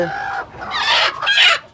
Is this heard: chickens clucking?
yes